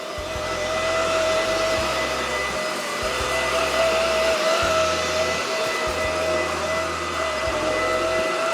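Supclean A10 cordless vacuum cleaner running on its low setting, a steady close motor whine with airflow hiss and some low rumbling shifts underneath, continuous with no talking.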